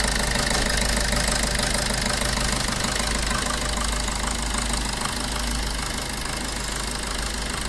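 A Maruti Suzuki S-Cross engine idles just after starting, loud and close with a constant rough running hum and a busy rattly texture that holds steady throughout.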